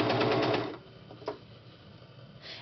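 A serger overlocks the edges of a fitted cloth diaper, giving a fast, loud mechanical chatter that runs for under a second, then stops, leaving a quiet handling click and faint fabric noise.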